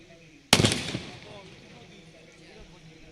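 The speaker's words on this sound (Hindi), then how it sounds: "फटाके की आवाज गूंजती हुई, फटाके रंग बिरंगी फटाके यहाँ पर फूटते हुए" Firecrackers burst in celebration after a cricket tournament final victory in Moodbidri. A single sharp, loud blast is followed by a crackling tail that fades away, with no talk.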